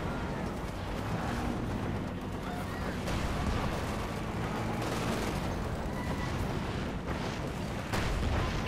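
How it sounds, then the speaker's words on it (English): Artillery barrage in the Company of Heroes 2 real-time strategy game, a dense continuous rumble of blasts and gunfire filling the whole stretch at steady loudness, with no clear gaps between impacts. "Another incendiary barrage in."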